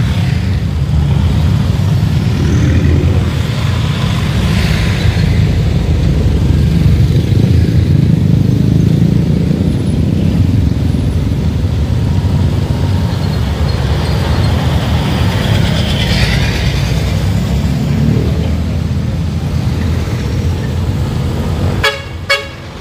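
Loud, continuous road traffic in a town in Lupi, Camarines Sur, slowed by road construction, with motorcycle and car engines rumbling close by and horns tooting repeatedly throughout.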